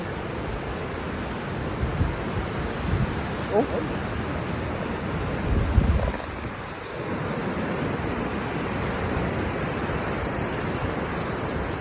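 Strong ocean surf roars as a continuous broad wash close by on a rainy shore during crab catching, with a brief exclamation from a voice partway through.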